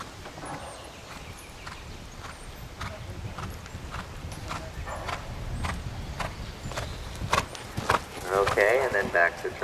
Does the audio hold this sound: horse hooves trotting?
yes